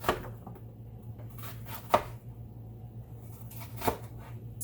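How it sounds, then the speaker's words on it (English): An onion being chopped on a board, with three distinct knife chops about two seconds apart over a faint steady hum. "So we'll get this onion all nice and chopped up."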